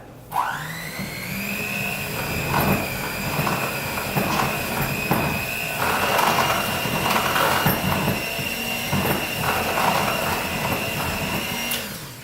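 An electric kitchen mixer creams ingredients for snickerdoodle cookie dough: the motor spins up with a rising whine, then hums steadily for about eleven seconds with a few knocking beater sounds, and stops at the end.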